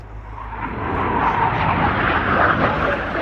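Red Arrows jets of the Royal Air Force flying the Tempest manoeuvre at the Royal International Air Tattoo, a loud broad roar that swells and holds as the formation passes over, with no speech.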